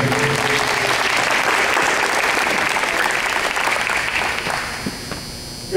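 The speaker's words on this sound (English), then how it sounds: "let's give a big round of applause to Kevin Granger." Dense, loud audience applause fills a press room introducing athletic director Kevin Granger at a Texas Southern Tigers football coach event, sustained and even before tapering off near the end.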